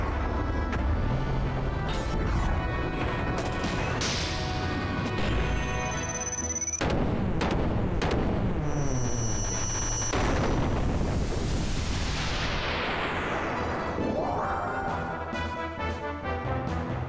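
Heavy crashing blasts and booming impacts from the Jesse cannon attack in the video game Xenogears, dense and loud throughout with layered explosive effects and sweeping tones.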